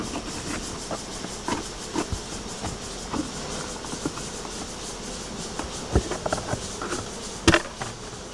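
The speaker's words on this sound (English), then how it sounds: "Lin Jing Tong has lived with bees for 40 years." Bees buzz around hundreds of beehive boxes outdoors, a continuous moderate hum broken by scattered louder passes and brief clicks and knocks, with no talking.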